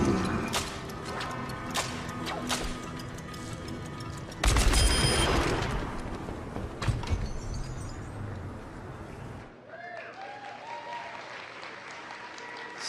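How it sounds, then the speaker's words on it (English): Overwatch's McCree firing his Deadeye ultimate in first person, video game gunshots: a dense burst of sharp shots and booming impacts, loudest in a surge midway, then tailing off into quieter game ambience with a few chirping effects. "here's how everything sounds in the game in first person after you fire some shots."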